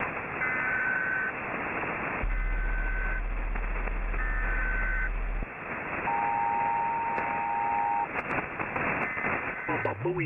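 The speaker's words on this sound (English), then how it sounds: "The emergency alert system has been activated." Emergency alert broadcast over radio with sustained two-tone alert signals and a long low attention buzz, then a single steady tone, all over noisy, static-filled radio audio that also carries a voice.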